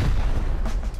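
A rocket explosion in the survival game Rust, a loud, dense, rumbling blast that fills the short moment with heavy low-end boom and crackling debris.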